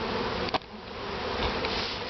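A dense swarm of honeybees drones around an open top bar hive during open feeding, a steady close buzzing hum throughout, with one brief bee zipping past near the microphone.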